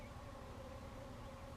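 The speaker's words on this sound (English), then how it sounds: "These bees are all around me." Honeybees swarm around an open beehive during a hive inspection on a bee farm, a steady, dense buzzing that hangs close and continuous throughout with no voices over it.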